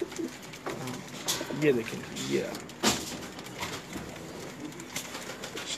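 A pigeon in a Lahore loft coos softly in short, low burbling phrases close by, while someone talks over it.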